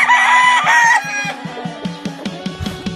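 A tornado hatch straight comb gamecock crows loudly and close by, followed by a rapid series of clucks and shorter calls, with no talk.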